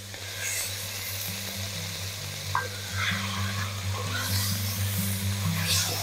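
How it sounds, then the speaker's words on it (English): Shallots sizzling and caramelizing in a pan, a continuous crackling fry with soft stirring and tamping scrapes, close and steady, while a low hum runs underneath and a person talks briefly at times. "Now I'm tamping the shallots down so that they are in a single layer down at the bottom of the pan to ensure more even browning."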